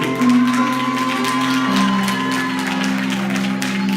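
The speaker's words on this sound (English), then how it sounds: "Come on, somebody clap your hands and give God praise." A church congregation clapping hands in praise during a worship service, a dense stream of rapid claps from many people over a sustained organ or keyboard chord, with scattered shouts mixed in.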